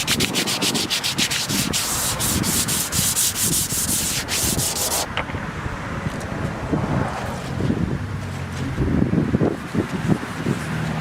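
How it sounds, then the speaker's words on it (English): Coarse 40-80 grit sandpaper scrubs hard across a damaged fiberglass Humvee hood in continuous, close, loud rubbing strokes, with some wind buffeting the microphone and no talking. "You're going to sand the whole area in which you're going to be putting bondo on."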